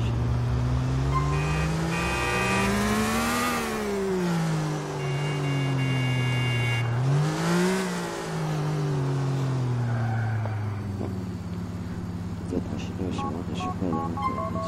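A BMW's engine roars in GTA IV, a loud, steady drone that rises and falls in pitch through two long revving swells, with some skidding and background game music underneath and no talk.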